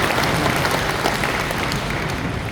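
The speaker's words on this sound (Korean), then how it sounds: "다시 한번 큰 박수 부탁드립니다." Steady applause from an audience at a church men's association national vision ceremony, dense, loud and continuous throughout with a faint crowd murmur underneath.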